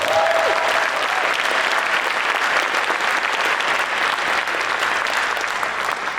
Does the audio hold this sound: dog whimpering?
no